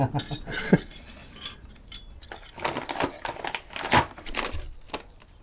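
Crinkling, rustling plastic packaging being torn open with teeth at close range, with irregular crackles and snaps over several seconds.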